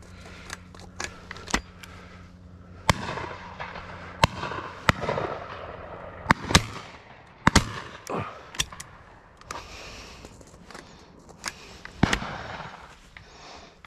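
Shotgun shots crack out at a driven pheasant shoot in Herefordshire on the last day of the season: a dozen or more sharp reports, some close and loud, others farther off, scattered irregularly across the outdoor scene with no talk.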